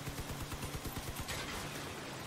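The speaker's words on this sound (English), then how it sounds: "Oh, that's a cannon." Cannon fire in the vehicle combat game CrossOut, a quick series of rhythmic muffled shots in the first second or so, fading into a low hum of game noise without any speech.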